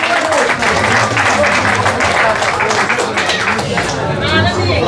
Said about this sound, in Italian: Applausi signori